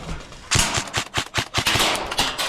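Airsoft guns fire in rapid bursts and single cracks during a skirmish, loud and near with an uneven rhythm, and no voices are heard.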